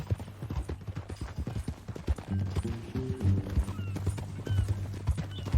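Horse hooves clip-clop steadily in Red Dead Redemption II, the even rhythm running under a low engine-like hum and brief game dialogue, with a short neigh mixed in.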